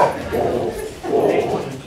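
Dog barking at other dogs passed on a walk, in two loud bursts of yips and bow-wow barks with whimpering, close by, alone without talk.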